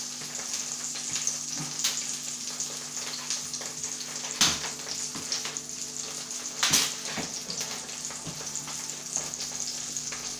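Steak sizzles steadily in butter in a pan with a close, crackling hiss, and sharp spatters and pops break through now and then. No voices are heard.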